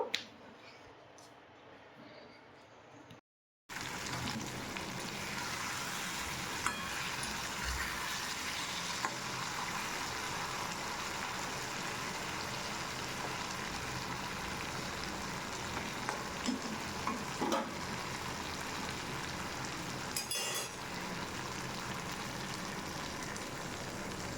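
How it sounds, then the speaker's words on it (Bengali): Small fish curry masala frying in a pan while being stirred, a continuous dense sizzle with faint scraping and squishing from stirring, close and steady after a brief quieter opening, no talking. "এবার একটু ভালোভাবে নাড়াচাড়া করে নেব।"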